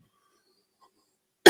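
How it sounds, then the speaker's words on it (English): A single close, sudden cough from a person who is somewhat sick, bursting out after near silence at the very end. "excuse me while I cough up a storm"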